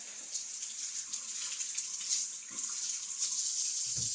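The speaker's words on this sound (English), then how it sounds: "And let me rinse my hands off." Hands rinsed under a running kitchen tap, a steady bright hiss of flowing water with a soft splash near the end, close and alone.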